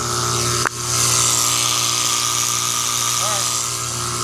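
A failing air conditioner compressor runs with a loud, steady, harsh mechanical drone and buzzing tonal hum, heard up close with a brief clunk early on and faint talk in the background.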